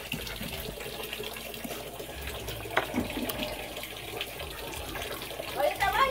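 Water running out of a sink basin's drain hole, a steady wet rush with gurgling splashes throughout, moderately close, with people talking over it and a brief knock partway through.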